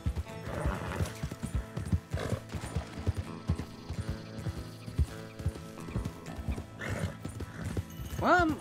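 Hooves clip-clop steadily while a horse neighs and whinnies in Red Dead Redemption 2, with a voice talking over the game sounds.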